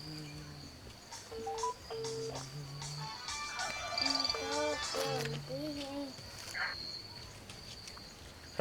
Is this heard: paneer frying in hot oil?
no